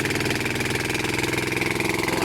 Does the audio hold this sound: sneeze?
no